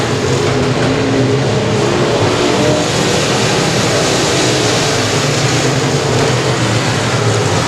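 Dirt track race cars roar together through a B-main event at Lone Star's Armadillo Nationals, a dense, loud, continuous engine drone with no clear gaps between cars.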